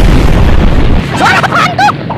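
A loud cartoon explosion from dynamite in an animated cartoon about a cockroach, a sustained heavy boom and rumble, followed by a brief squeaky cartoon voice as it fades.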